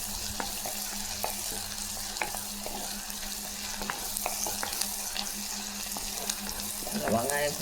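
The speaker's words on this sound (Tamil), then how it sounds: "வெங்காயம் கொஞ்சம் செவந்து வர மாதிரி நல்லா வதக்கி எடுத்துங்க" Onions, green chillies and garlic sauté in a pan with a soft, continuous sizzle, light taps of a spoon, and a louder clatter of stirring near the end.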